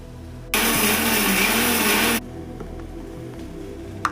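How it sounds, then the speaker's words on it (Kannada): A mixer grinder runs in one loud continuous whir for about a second and a half while powdering roasted ingredients, then cuts off, leaving quiet room tone and a faint tap. "ತಣ್ಣಗಾಗಿದೆ, ಅದು ಫ್ರೈ ಆಗೋ ಅಷ್ಟರಲ್ಲಿ ಇದನ್ನು ಹಂಗೆ ಪೌಡ್ರ್ ಮಾಡ್ಕೊತೀನಿ."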